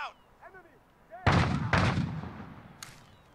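Two loud, close SIG SG 550 sniper rifle shots crack out in Call of Duty Modern Warfare, each with a booming tail, followed by a faint distant report; brief chirpy game sounds come before the shots.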